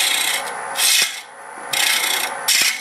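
Woodturning tool working side grain on a lathe, a harsh scraping rasp in repeated close bursts with short sharp knocks where the tool catches, no talking.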